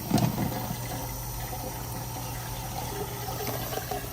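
Water is poured into a cooking pan in a home kitchen, a low steady splashing and trickling that is fairly quiet and close, with no talking.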